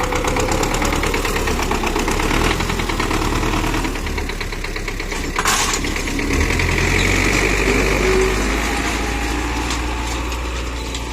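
MTZ-82 tractor engine running steadily close by while cultivating a ploughed field, a loud rumbling drone with a rhythmic knock, lasting throughout without speech.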